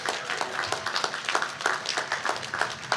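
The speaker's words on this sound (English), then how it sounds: "Let's applaud, let's give it up." A commencement audience at a 2023 STEM graduation claps in a faint, scattered patter of many hands, heard from a distance without much swell.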